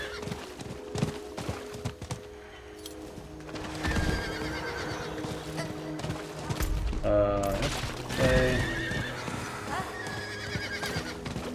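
Horse mount in the Diablo 4 video game, hooves clip-clopping and a neigh amid game effects, with a voice talking at times over the steady background.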